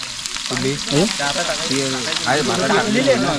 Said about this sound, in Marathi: तेल तापला कांदे टाकून घ्या